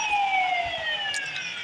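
Police car siren in a video game, a continuous wailing tone sliding slowly downward, clear and fairly loud, heard alone for under two seconds.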